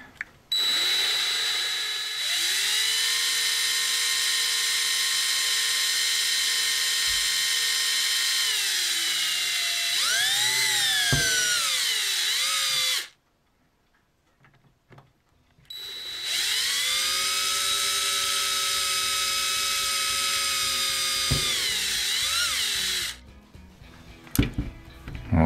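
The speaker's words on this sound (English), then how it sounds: "I want it to drill out the other side." A power drill whines loudly and steadily while drilling holes in a model ship, pitch dipping under load, stops for a few seconds, then runs again for a long stretch.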